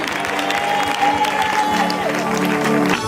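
A church congregation applauding and cheering in praise, a sustained wash of clapping and crowd voices with a speaker's amplified voice over it.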